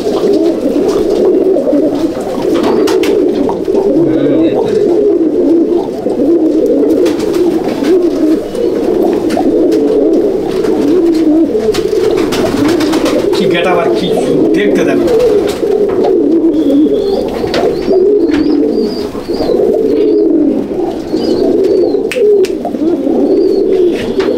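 Teddy pigeons at a loft coo continuously in a close, dense chorus, with wing flutters and handling noises mixed in and someone talking intermittently over them.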